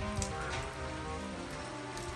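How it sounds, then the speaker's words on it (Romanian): Steady rain patters densely on a surface, a constant hiss of drops with no voices. "Păi plouă."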